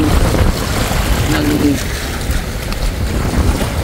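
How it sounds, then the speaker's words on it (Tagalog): Sea waves crash and wash against rocks along the shore of a boulevard in Masbate City, a loud churning surge mixed with wind buffeting the microphone, with a voice speaking over it. "hampas ng alon sa mga bato"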